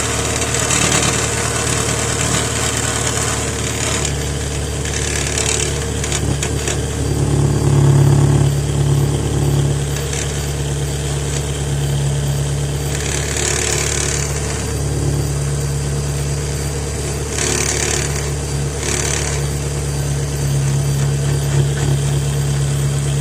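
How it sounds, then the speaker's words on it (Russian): A car idles steadily for a long stretch while its exhaust system, loose at a clamp where gases leak, gives off a continuous metallic buzz and rattle with a few brief rises in intensity. "в этом месте началось сечение выхлопных газов и дребезг бьющихся друг об друга"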